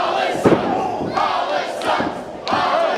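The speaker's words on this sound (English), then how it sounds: "And I think the crowd has some words for Hollis." A wrestling event crowd shouts and jeers at a wrestler in loud, sustained chants that swell in waves, with a thud early on.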